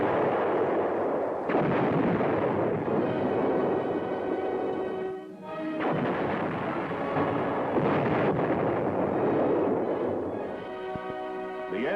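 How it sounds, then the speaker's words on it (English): Main gun fire from an M60 Patton main battle tank during combat exercises, a loud, sustained roar of booming blasts and rumbling reverberation that fills the recording, with a brief dip midway before the heavy thunder resumes. "A 165mm cannon, designed to fire at short ranges with extreme accuracy"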